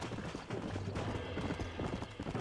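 Horses in Red Dead Redemption, with steady clip-clop hoofbeats on the ground and a faint whinny, close and continuous throughout.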